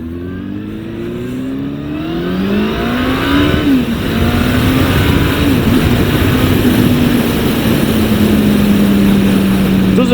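A Honda Hornet 900 motorcycle pulls away while being ridden, its engine note climbing through the revs into a loud, sustained drone with heavy wind rush.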